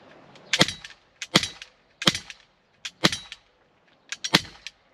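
Five crisp, loud shots from a Walther P99 DAO 6mm airsoft replica pistol, spaced at a steady rhythm under a second apart, each a dry snap with a short rattling tail and near silence between them.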